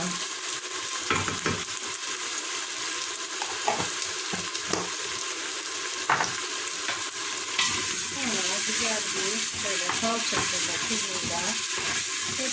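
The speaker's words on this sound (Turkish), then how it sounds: "hepsini bir kavuralım" Tomato paste sizzles and fries in a pan while being stirred for a bean pilaki dish, a steady close crackle with soft scraping stir strokes throughout.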